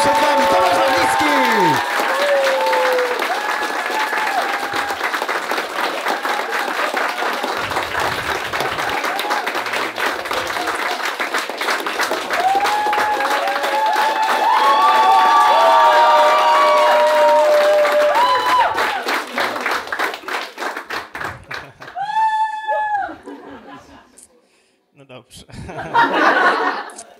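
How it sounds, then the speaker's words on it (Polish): Sustained audience clapping greets a stand-up comedian at a live comedy show, loud and dense, mixed with cheers, laughter and voices, then fading into scattered claps and talk toward the end. "żebyśmy zrobili bardzo porządne oklaski"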